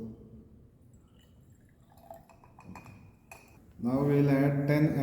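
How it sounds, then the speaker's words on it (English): Distilled water, 50 ml, is poured into glass lab flasks for an arsenic limit test: faint clinks of glassware first, then a loud close gurgling pour filling the last second. "Now we are adding 50 ml distilled water in both."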